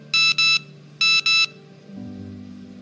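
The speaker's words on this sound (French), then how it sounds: "Un moment s'il te plaît, mon téléphone sonne." A mobile phone rings with two pairs of sharp electronic double beeps, close and loud, followed by a low steady tone.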